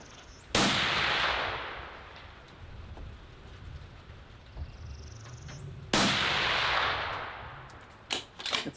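Two suppressed rifle shots fired with Norma ammunition at outdoor targets, each a sharp loud crack with a long rolling decay, several seconds apart, followed by faint clicks of the bolt being worked.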